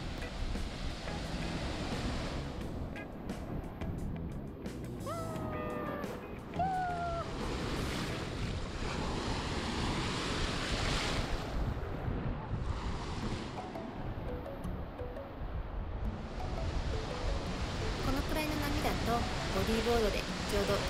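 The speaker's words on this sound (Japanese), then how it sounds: "このハプナビーチはいつもはもっと波が荒いようなイメージがあるのですが、今日は比較的穏やかだったように感じます。" Fairly calm surf washes steadily onto Hapuna Beach on Hawaii's Big Island, with gusts of wind buffeting the microphone and a few faint high chirps in the background.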